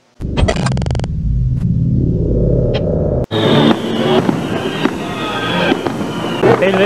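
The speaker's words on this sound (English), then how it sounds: "Firework." Fireworks explode in a dense run of loud bursts and crackles, following an opening stretch of steady tonal sound and a brief silent gap. People talk over them.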